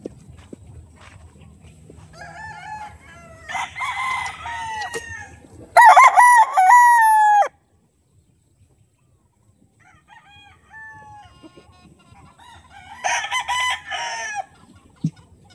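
Imported gamefowl roosters at a game farm crow loudly nearby, one long crow standing out among others. Clucking and further crowing come in bursts separated by quiet gaps.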